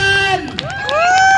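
A crowd in a room cheers loudly for Pakistan in a clapping contest, a brief burst of shrieks and whoops with a few claps mixed in.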